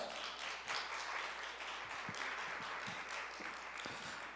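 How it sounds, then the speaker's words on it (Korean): Audience applause in a church hall welcoming a pastor to the lectern, a steady patter of many hands clapping, fairly faint and distant, with no voices over it. "큰 박수로 모시겠습니다"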